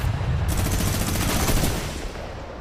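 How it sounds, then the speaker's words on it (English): Rapid minigun fire in the Fortnite video game, a dense loud continuous burst of fast shots lasting about two seconds over game background noise, with no talking. "Shots through. Minigun, a quick swap there, picks the shotty back up."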